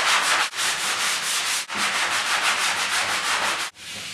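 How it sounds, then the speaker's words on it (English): Sandpaper rubbed over a skim-coated drywall patch in long, continuous scraping strokes, close and loud, with a few brief pauses between passes. "We're gonna sand it down now to make it smooth."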